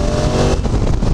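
A 2016 Honda CRF1000L Africa Twin motorcycle engine pulls hard under acceleration, a loud, close, continuous drone mixed with wind roar over roughly a second.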